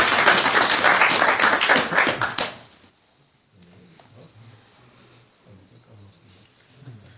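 Audience applause at a poetry recital, loud and dense with many hands clapping together, fading out after about three seconds into a quiet room with faint shuffling.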